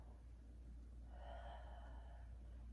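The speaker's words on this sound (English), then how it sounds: "Big breath" A big breath drawn in during a reclining yoga twist, a soft, close airy inhale rising for about a second over a low steady hum, no talking.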